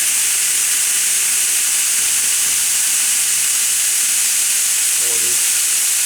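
Earth-Chain sPINner HD-750CL magnetic high-speed deburring and polishing machine running, giving a steady, loud hiss like rushing steam, continuous throughout with a faint voice near the end.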